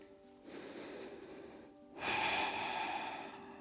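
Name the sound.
deep breathing during a yoga workout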